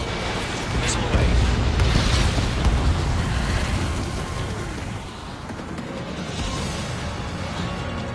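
Missile launch and explosion in the jet combat game Ace Combat 7: a loud, sustained roaring blast and rumble that swells early, then eases into a lingering heavy din.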